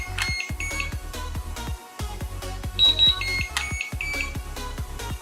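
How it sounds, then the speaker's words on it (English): A Metroboard electric skateboard remote gives a rapid series of sharp electronic beeps while its brake level is being set, the short tones repeating in an irregular rhythm close to the device. "So you see 3 beeps, and before it was 2."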